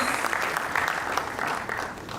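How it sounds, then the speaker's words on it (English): An audience at a sickle cell foundation event claps for a speaker being introduced, a dense, steady burst of applause that fills the whole moment. "A big round of applause"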